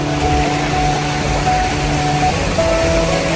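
Steady broadband rush of a waterfall at the end of a rough path, loud and continuous for the whole stretch, with faint tonal hums running underneath and no voices.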